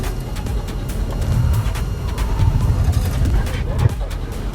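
MG EX4 car driven hard up the Goodwood Festival of Speed hill climb, a continuous engine and road roar with intermittent bursts and crackles throughout.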